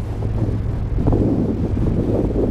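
Strong wind at sea buffets a microphone aboard a boat out on the Java Sea, a loud continuous rumble and roar with steady gusting and no voices.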